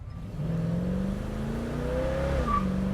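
A 1966 Ford Mustang's engine revs as it accelerates, with a brief high squeal from the tires chirping near the end, close by.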